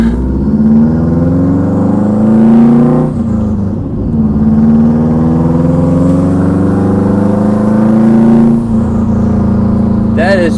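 A Subaru WRX with an external wastegate revs hard from inside the car, two long climbing pulls with a sharp drop between them, loud and close.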